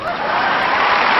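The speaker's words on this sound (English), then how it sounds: "Listen to that applause." Studio audience applause after two people sing a TV theme song, a loud, dense, steady wash of clapping filling the whole moment with a few chuckles mixed in.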